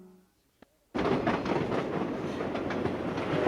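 Spirit of Washington passenger train running on its rails, a steady close rumbling roar with rolling clatter that starts abruptly after a brief quiet moment and a single click, then holds loud throughout.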